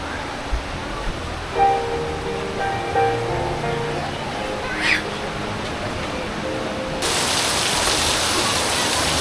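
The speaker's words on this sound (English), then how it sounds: "that's a lot of rain right there" Heavy rain pouring by the sea in Roxas City, Philippines, a dense steady hiss under faint surf, with a few short voice sounds, then the downpour swelling louder and harsher near the end.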